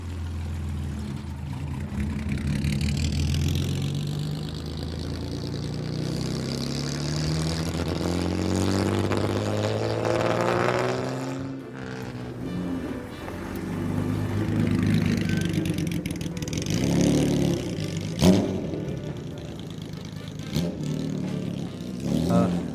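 A Jaguar D-Type racing car's engine running nearby, a loud mid-pitched roar that swells with revs, eases off and builds again, with a few sharp mechanical clacks near the end and faint voices in the background.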